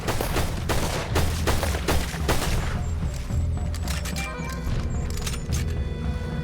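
Gunfire crackles in a Red Dead Redemption 2 fight, with several sharp shots at the start fading into echoing tails and lingering ringing tones, and no talk over it.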